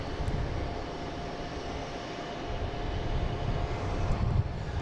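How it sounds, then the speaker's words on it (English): A United Airlines Boeing 737 MAX 9 arriving from San Francisco comes in to land at Boston Logan, a broad continuous engine roar that swells slightly louder toward the end, with no talking. "we get United Airlines coming in from San Francisco"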